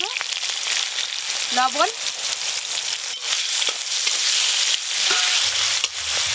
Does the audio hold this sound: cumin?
yes